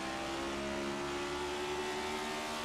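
A race car engine in iRacing at Bristol Motor Speedway drones steadily and loudly as it comes off the throttle on corner exit, a continuous buzzy tone with no talk.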